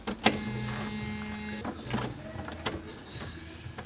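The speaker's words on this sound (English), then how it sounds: "put the key in the ignition and we'll just put it to on just to prime the pump" A Jeep YJ electric fuel pump primes with a steady high whine, cutting off partway through, with clicks and handling clatter around it.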